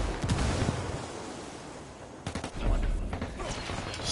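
Video game combat: a grenade explosion and bursts of gunfire rumble through noisy, muffled chaos, with a stronger blast surge near the end.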